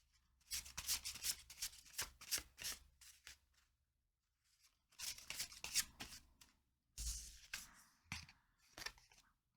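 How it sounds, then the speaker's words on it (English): Tarot cards shuffled by hand up close, quiet papery riffles and rubbing in three bursts separated by short pauses, faint and without talk. "let's shuffle these."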